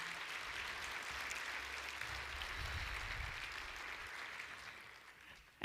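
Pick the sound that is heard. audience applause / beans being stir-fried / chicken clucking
audience applause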